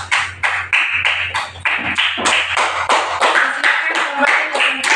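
A classroom audience applauds with dense, close hand clapping that holds steady for about five seconds.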